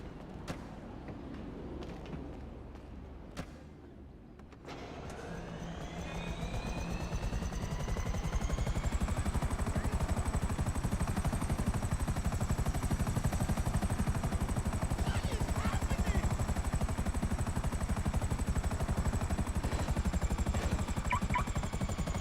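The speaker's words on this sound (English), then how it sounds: "let me just move your helicopter then, so that it's not blocking." A helicopter in a video game starts up. Its engine whine climbs in pitch over several seconds and then settles into a loud, constant rotor drone that fills the rest of the clip.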